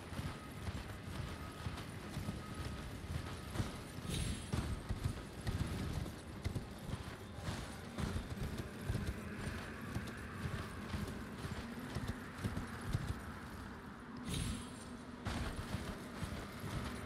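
A horse mount gallops in Elden Ring, its rapid hoofbeats keeping a steady, continuous clip-clop rhythm over a dense, busy game soundscape, with no one talking.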